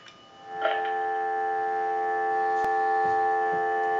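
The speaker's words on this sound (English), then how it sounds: "we'll give you some dial tone" A steady telephone dial tone plays through an amplifier from a repaired Sitel wood wall designer telephone, a constant faint hum holding unbroken after a soft click at the start.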